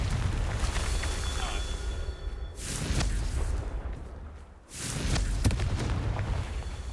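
Confringo, the explosive spell in Hogwarts Legacy, goes off in loud bursts of whooshing blast and rumble, with one brief dip before the blasts start again, continuous and close.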